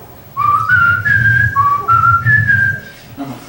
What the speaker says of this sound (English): every now and then I'll catch myself whistling